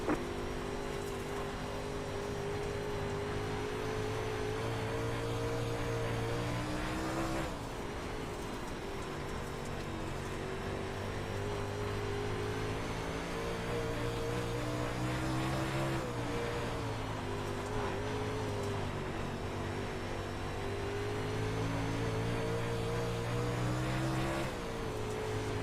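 NASCAR trucks race in a video game with a continuous, loud engine drone whose pitch rises and falls as the trucks shift and accelerate around the track, with no talking.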